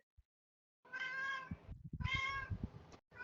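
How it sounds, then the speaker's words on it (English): A cat meows twice, fairly close and clear, each call lasting about a second, with a brief start of a third at the end. "If y'all hear a cat, I apologize. That's mine."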